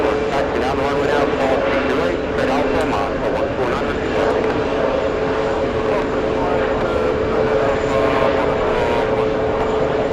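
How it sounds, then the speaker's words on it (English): A Delta Boeing 767 on the move at JFK airport, a loud, steady engine roar that holds constant throughout, with outdoor wash in the background. "We have a 767 Delta 53. Oh, it's on the move."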